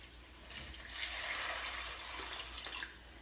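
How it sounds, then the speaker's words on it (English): Water running and pouring into a bowl of dry beans at close range, a steady splashing wash that swells for a few seconds and then eases off, with no talk over it. "And then you're going to cover them with water."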